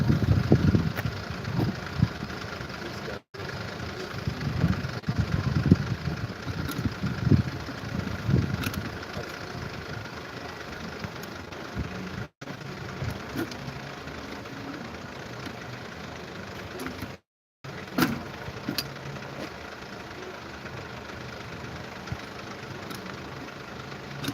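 A trike engine idles and runs as the rider sets off, a low rumbling drone with uneven throbbing pulses early on, then a quieter steady hum broken by a few short dropouts.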